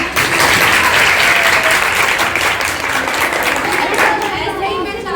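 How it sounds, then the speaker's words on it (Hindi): Loud, dense applause from a crowd of children at a community health talk fills the space continuously, then tapers off slightly at the end. "पहले जोरदार ताली"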